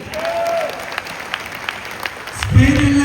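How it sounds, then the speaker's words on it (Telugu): An audience at a Safeshop leader's testimony event claps, moderately loud scattered applause with sharp individual claps, while someone talks at the start and again near the end. "బాగుంటే క్లాప్స్ ఇవ్వాలి."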